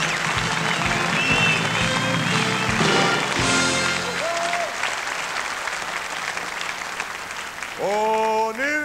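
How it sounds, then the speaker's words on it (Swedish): A show audience gives a hearty round of applause for the performers, dense continuous clapping at close range with music playing underneath throughout. "en rejäl applåd för våra världsstjärnor"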